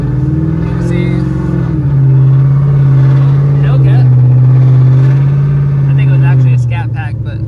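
A Ford Shelby GT500 engine drones loudly and close as the car cruises and works through its gears, the pitch rising and dropping with each shift, with a voice talking faintly over it.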